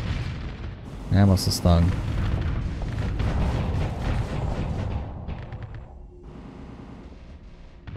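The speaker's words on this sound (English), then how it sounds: "Wow, those missiles can hit that far." Missiles strike ships during space combat in Starsector, giving repeated booming impacts and crackling bursts, loudest early on, over a rumbling battle background while a person talks.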